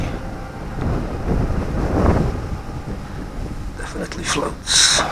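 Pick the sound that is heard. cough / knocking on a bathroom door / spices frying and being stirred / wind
wind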